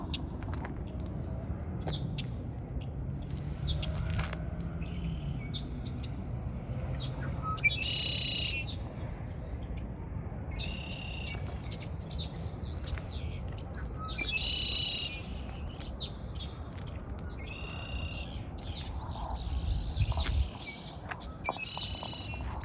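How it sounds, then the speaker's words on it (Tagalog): Birds chirp and sing in a park, repeated bursts of bright calls coming at intervals over a soft outdoor rumble, moderately close and clear. "daming mga ibon doon guys."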